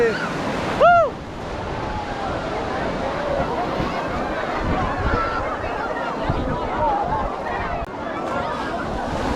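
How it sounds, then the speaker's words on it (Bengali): Sea waves breaking on the beach at Digha, a continuous near surf wash with a crowd's babble underneath and a brief shout near the start. "ওরে বাবারে বলতেই ঢেউ চলে এসেছে"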